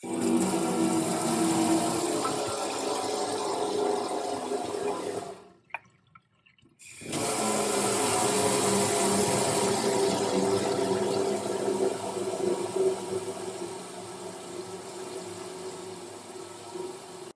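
Tap water running steadily through an LED light-up faucet attachment, a continuous close hiss and splash that cuts out briefly for about a second before resuming.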